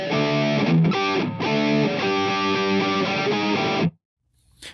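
An electric guitar with heavy distortion slowly plays the closing two measures of a song: a loud, steady run of chugging chords and single notes that stops abruptly near the end, leaving near silence.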